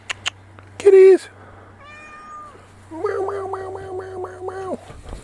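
Cats meow close by, first a loud single meow, then a fainter one, then a run of several quick repeated meows over a low steady hum.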